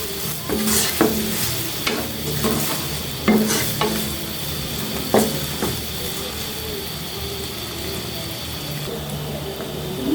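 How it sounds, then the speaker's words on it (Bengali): Onions frying with salt in a pan until soft, with steady sizzling and repeated scraping strokes from stirring, close and moderately loud. "পেঁয়াজটা একটু নরম হওয়ার জন্য একটু লবণ দেব দিয়ে এগুলিকে একদম নরম করে ভেজে নেব"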